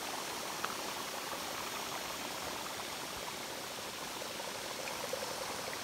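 Small hot springs at Sulphur Springs in the Valles Caldera, New Mexico, bubble and gurgle in a soft, even wash of water noise, with no voices.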